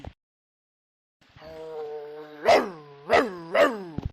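A dog gives a long whining, drawn-out howl, then three sharp, fairly close barks at a moderate volume. No one speaks.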